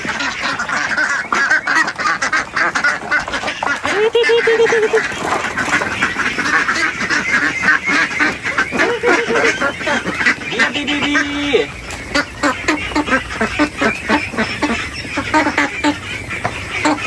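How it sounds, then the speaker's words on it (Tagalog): A flock of farm ducks (itik) quacks continuously and close by while being fed, the overlapping calls dense and busy with a few louder quacks standing out, all without talking. "Ito po yung unang batch ko ng mga itik, malalaki na."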